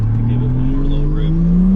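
An abandoned Toyota Supra project car's engine revs up in one short rising pull, its deep harmonic exhaust tone climbing steadily in pitch, loud and close.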